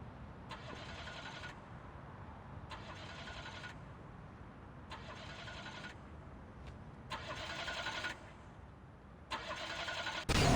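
Car engine starting in the video game Splinter Cell: Conviction: five evenly spaced bursts of cranking, each about a second long, over a low background rumble, with a sudden loud surge at the very end.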